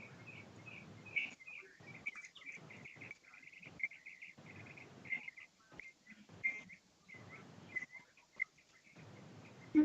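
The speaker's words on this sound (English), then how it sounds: "Oh yeah, you hear them outside just tweeting their little hearts out." Birds tweet outside, heard faintly through a room as thin, repeated high chirps in a steady chattering pattern that sits quiet and distant with short gaps, no talking over it.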